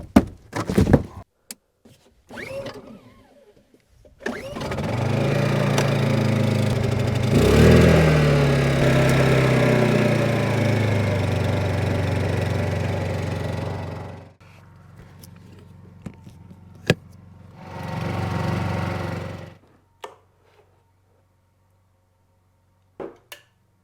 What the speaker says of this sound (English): I'm gonna turn on the generator